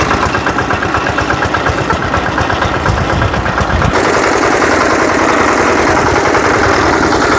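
A nano tractor engine runs steadily and loud nearby, a constant dense mechanical drone with a faint knock, its tone shifting partway through; no talk.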